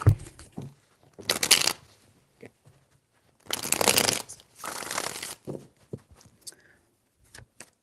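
Tarot cards are shuffled three times in quick riffling bursts, each a short crisp flurry of slapping card noise, with soft handling sounds and silence between.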